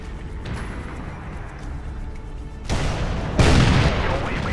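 A tank round strikes and glances off the side of an enemy turret in a video game, heard as a sharp booming impact followed by a second, heavier crash over steady background rumble.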